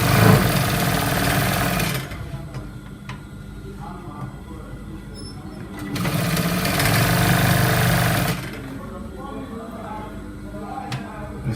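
Sewing machine stitching a corporate trouser, running loud in two steady whirring bursts of a few seconds each, separated by quieter pauses with a low hum and faint talk.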